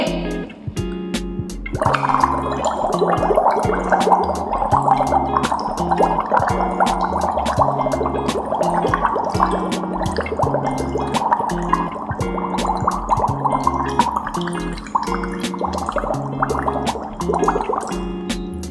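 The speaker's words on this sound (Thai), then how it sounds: "เดี๋ยวคุณครูจะลองเป่า น้ำในแก้วให้ดูนะคะ แบบนี้" Air blown through a straw into a glass of water makes a continuous bubbling gurgle that runs steadily for most of the stretch, close and fairly loud, with no talking.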